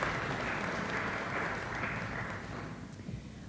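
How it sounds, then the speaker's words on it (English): An audience claps at an 8th grade graduation ceremony, a steady wash of applause from many hands that holds level and then starts to thin toward the end. "can clap, it's all good, it's all for them."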